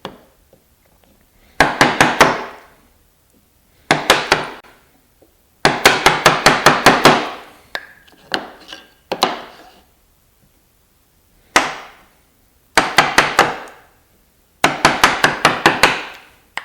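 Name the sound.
chisel chopping notches in a wooden board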